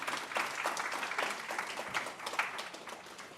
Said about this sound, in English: Let's have a round of applause to start this off.